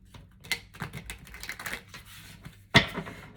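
Tarot cards are shuffled in a quick run of light, crisp riffling clicks, ending in one sharper slap as the deck comes together. The sound is close and clear, with no speech over it.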